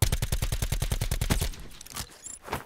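Rapid burst of roughly a dozen sharp stun-grenade bangs from a 9-bang in Call of Duty Blackout, loud and evenly spaced for about a second and a half, followed by scattered fainter pops and scrapes.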